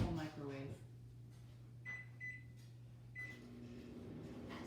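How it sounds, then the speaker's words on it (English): A powerful microwave oven hums steadily while melting chocolate, a low constant drone with a few short beeps and small clicks, close by and without talk. "Yes, our microwave is very strong"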